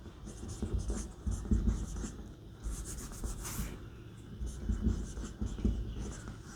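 Marker or chalk strokes scratch across a board in a polynomials lesson, a steady run of short rubbing strokes at close range with no voice over them.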